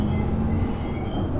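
An Amsterdam tram rolls along its rails with a continuous low rumble and steady hum, close and unbroken, with no talk.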